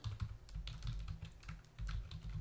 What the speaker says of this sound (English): And we're gonna uh, type in the password.